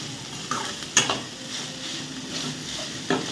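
Egg rice fries in a pan with a soft sizzle under repeated scraping and knocking of a spatula, with a few sharper metallic clicks. There is no talk.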